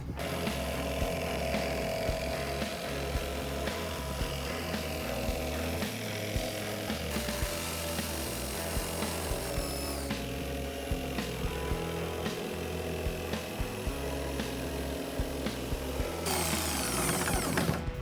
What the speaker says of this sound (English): He's using a jigsaw.